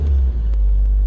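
A Bobcat skid steer in snow, its engine rumbling loudly and close as the tires spin for a brief moment without traction, with no talk.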